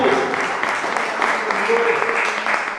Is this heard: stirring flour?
no